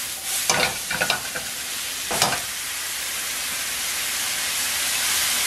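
A veggie mushroom burger patty fries in a pan with a steady, moderately quiet hissing sizzle, broken early by a few short scraping bursts and then left to sizzle on its own.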